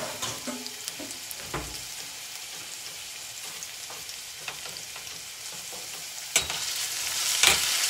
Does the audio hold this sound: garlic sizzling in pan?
yes